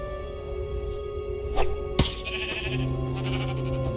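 A sheep bleats in the Minecraft: Story Mode video game, a short plaintive call over a steady game music bed with a couple of sharp clicks and effects, no talking.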